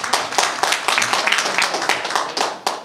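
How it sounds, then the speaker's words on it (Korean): An audience at a ceremony marking the 109th anniversary of the Korean National Association applauds, a close run of brisk, uneven hand claps that swells and thins over a few seconds with no talking. "박수 한번 부탁드립니다."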